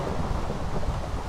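Low rumbling thunder in Minecraft rolls over a steady wash of rain, loud and close, with no voices.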